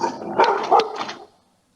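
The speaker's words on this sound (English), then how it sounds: "So now you can see my dog barking." Dog barking indoors behind a door, several short barks in quick succession at moderate loudness over a little over a second, with no talking.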